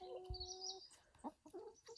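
Backyard hens cluck softly and chirp close by in a garden coop, a few short calls in quick succession with no talking.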